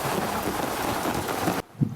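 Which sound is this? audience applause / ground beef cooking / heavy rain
heavy rain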